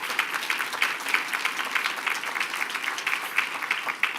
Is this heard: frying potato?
no